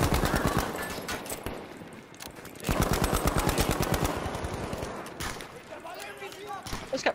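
Rapid bursts of gunfire from the Battlefield V video game crackle loudly through most of the stretch, with players talking over the shooting.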